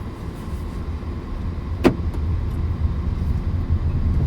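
A car with its engine rising in revs as a learner driver presses the accelerator, a steady close cabin rumble with a brief click partway through and no talk.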